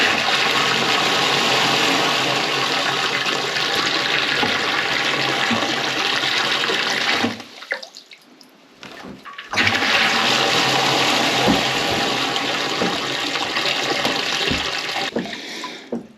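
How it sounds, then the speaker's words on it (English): Loud rushing water pours steadily, briefly cutting off and then gushing again at full force. "Let's turn the water on and see what's happening."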